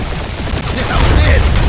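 Rapid turret gunfire rattles through a dense, continuous space dogfight in the Guardians of the Galaxy game, volleys overlapping with a deep rumble that swells louder in the second half.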